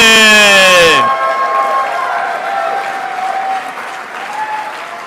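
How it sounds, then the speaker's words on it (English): Audience applause at the IFMAR awards ceremony rises as a loud tonal sweep cuts off, then continues as steady moderate clapping with a sustained tone lingering underneath. "Keep that applause loud and proud."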